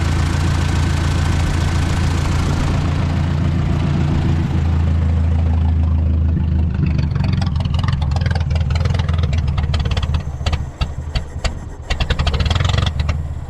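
Ford 641 Workmaster tractor engine running steadily and loud throughout, a low steady rumble that turns rougher and more uneven in the second half, as if faltering, with no talk over it.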